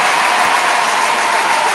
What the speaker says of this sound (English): A round of applause for bars like that